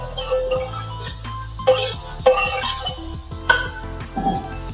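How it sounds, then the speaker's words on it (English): Grated onions are stir fried without oil in a preheated 7-quart pot for a mushroom soup, giving a soft sizzle under close scraping and clattering of the spoon against the pot. "I'm stir frying the onions because I've already preheated the 7 quart just for 3 minutes. Wow, I love this sizzling sound."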